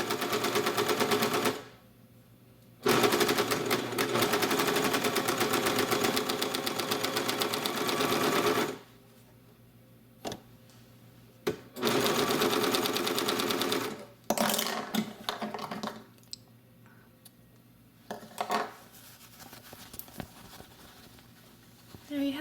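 A serger stitches piping between two fabric seams in steady bursts of rapid mechanical chatter, separated by short quiet pauses and softer intermittent clicks near the end.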